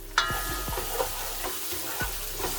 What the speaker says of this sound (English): I'm just gonna mix that in and let that saute for a few